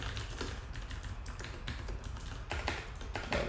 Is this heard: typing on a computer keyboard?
yes